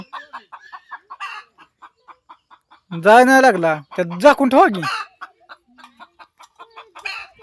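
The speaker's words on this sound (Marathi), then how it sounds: "कोंबडीला काय झालं इथं" A hen clucks in a rapid series of short, close clucks, with people talking loudly over a stretch in the middle before the clucking carries on alone.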